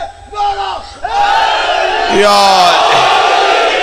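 A large crowd roars a chanted religious slogan in unison, loud and close, with one voice leading before many voices swell together and hold.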